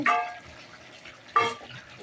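Thick, sour tamarind curry with puti fish and bitter gourd is poured from a pot, making two short, close splashing bursts separated by a brief pause.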